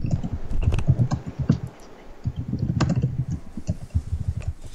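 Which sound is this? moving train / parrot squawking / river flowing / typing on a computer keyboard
typing on a computer keyboard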